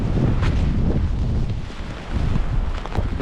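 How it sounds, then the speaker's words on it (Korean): Strong gusty coastal wind on a trail in Yeongdeok, Korea, buffeting the microphone in a loud, continuous roar with rumbling low-end surges. "이곳을 넘어가면 또 바람이 세게 불 겁니다"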